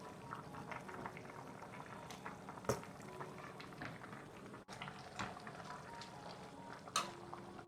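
Meat and vegetables simmer in a salty and sweet soy sauce broth on a stove, giving a steady close bubbling hiss with occasional louder pops and no voices.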